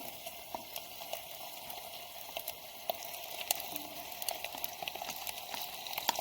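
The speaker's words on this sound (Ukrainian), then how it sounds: "Тут у нас все вже смажиться чудово." Steady sizzling and crackling of salo and sausage frying on a camping gas stove outdoors, with faint pops and a soft background hiss throughout.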